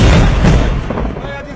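Pakistan Army mortar fire lands as a single heavy, booming blast, loud and close, with a rumbling tail fading over about a second and no voices.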